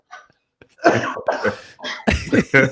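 Several harsh coughs come close together, loud and near, one burst after another.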